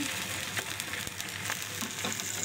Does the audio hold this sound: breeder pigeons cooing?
no